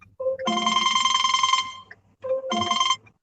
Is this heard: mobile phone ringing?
yes